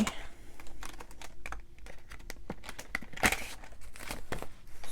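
Paper cash envelopes are handled as money is pulled out of them, giving a run of close, dry crinkling and rustling with sharp tapping clicks, steady and fairly loud with no talking.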